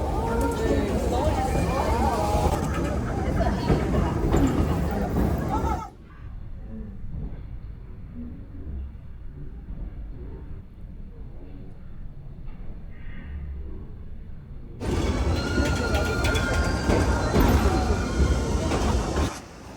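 A rail bike rolls along railway tracks in South Korea with a rumbling, clattering wheel noise that is loud at the start, drops to a quieter stretch, then returns strong, while people talk over it.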